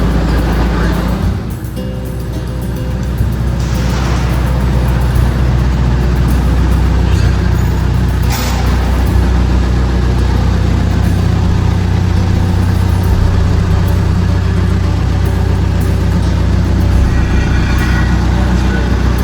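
A newly built dump truck sits with its engine idling, a loud, steady low rumble that continues throughout, with a short burst of extra noise near the start.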